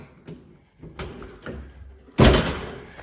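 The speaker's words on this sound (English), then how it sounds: "So I feel like the door is shutting good." Door of a 1967 Alfa Romeo Giulia Sprint GT shut with one loud, solid slam near the end, preceded by a few light latch clicks and handling taps up close.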